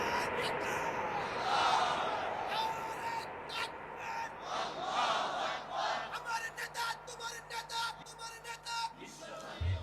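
A crowd at an Islamic sermon gathering shouts Allahu Akbar in unison in reply to a takbir call, a dense roar of many voices that stays loud throughout before slowly breaking up toward the end.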